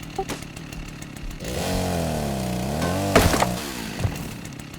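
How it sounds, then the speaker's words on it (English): A chainsaw in the video game Rust revs up and cuts for about two seconds, a loud, close, wavering engine whine between sharp clanking hits, with no talk. "What we didn't know was how groundbreaking this chainsaw was going to be for our wipe."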